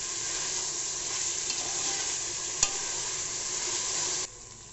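Tomatoes and onions sautéing in a pan with a pinch of salt: a continuous close hiss of frying that runs almost throughout, broken by one sharp tap midway, before it drops off abruptly near the end.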